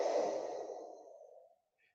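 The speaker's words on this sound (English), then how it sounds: "Come up. Deep breath in. Pause. Come back down. Deep breath in." A deep, breathy exhale during a core workout, close and soft, starting strong and tapering off over about a second and a half before silence.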